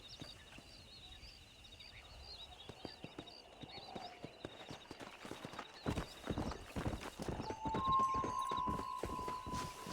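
Horse hooves clip-clop in a steady rhythm during riding in the Red Dead Redemption video game on Nintendo Switch, growing louder and busier toward the end over a faint ambient backdrop, with a brief tonal sound near the close.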